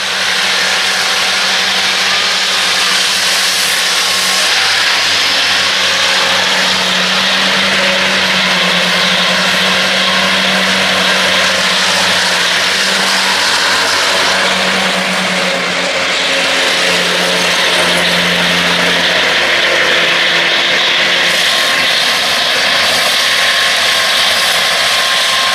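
A tractor mowing silage runs close by with a loud, continuous mechanical drone and whirring cutter noise that swells and shifts slightly as it passes, with no voices.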